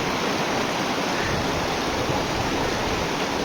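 A snowmelt-fed river in Ladakh rushes past in a dense, constant roar, loud and close, with no voices.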